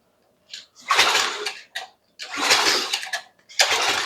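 Overhead-valve power washer engine being pull-started and failing to catch: three loud rasping cord pulls with brief sputters, separated by short pauses.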